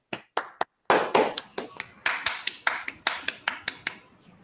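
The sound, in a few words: round of applause, clapping for the team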